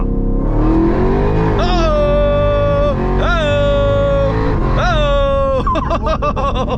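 A 900-horsepower Jeep Trackhawk accelerates hard from a 30 mph roll on the street, engine note climbing through several gear shifts, loud and close from inside the cabin, with a brief excited shout.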